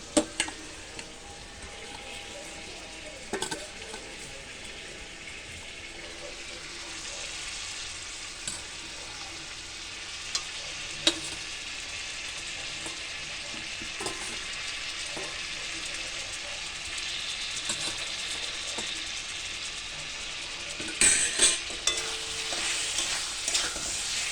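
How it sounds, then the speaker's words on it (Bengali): Paneer and potatoes stir-fry in a pan under a constant, moderate sizzle, broken by occasional scrapes and knocks of a utensil; near the end the stirring grows busier, and no voice is heard. "এবার আমি এগুলো আলুর মধ্যে দিয়ে দেব দিয়ে সুন্দর করে এটা কষিয়ে নেব"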